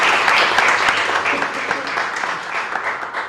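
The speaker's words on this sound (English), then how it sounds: "if my gentlemen in the crowd could give them a round of applause for acknowledging us" An audience at a county freeholders' ceremony honoring a high school boys volleyball team gives a short, steady round of applause, moderately loud and continuous.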